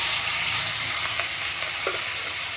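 Remaining hilsa fish pieces frying in a pan, giving a dense, continuous hiss and sizzle of hot oil at steady volume, close by, with no speech.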